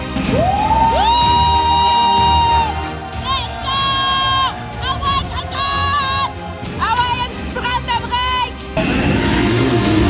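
A Formula 4 race car pulls away at a racetrack, its high engine whine climbing in pitch through repeated gear changes and fading off, over a murmuring crowd and nearby voices.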